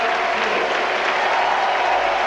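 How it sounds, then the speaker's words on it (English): Large stadium crowd at Mount Smart Stadium cheering and applauding after a goal in a New Zealand versus Australia football match, a continuous roaring wash of clapping and voices at steady high level. "The big crowd here at Mount Smart Stadium are loving it."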